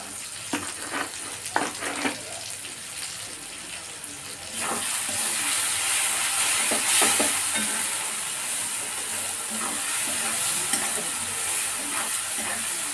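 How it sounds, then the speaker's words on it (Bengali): Spice paste with extra oil and a pinch of sugar is stirred and fried for a chicken and potato curry. Scattered stirring scrapes give way to a louder, continuous sizzle that sounds watery and rushing, heard up close. "দেখো মশলাটা ভালো করে কষানো হয়ে গেছে"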